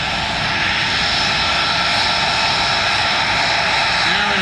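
An F-35B Lightning II military jet roars loudly and continuously at an airshow, a broad sustained engine rush with no break, as if passing close overhead.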